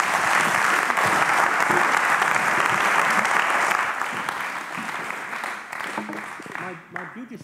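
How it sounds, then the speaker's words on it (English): Audience applause fills the room at the close of a data visualization presentation, steady and loud at first and then thinning out and fading toward the end. "Applause."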